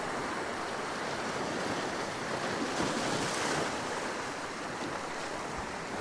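Storm-driven waves splashing and surging near the microphone, forming a steady roaring wash of water with heavy wind buffeting throughout and no voices.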